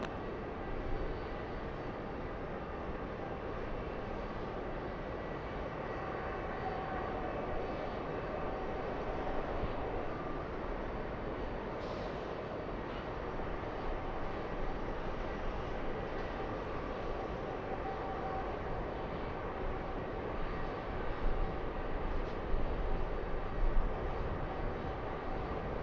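Aircraft taxiing at LAX, a faint continuous engine rumble and hiss at a distance, with a slight swell in loudness toward the end.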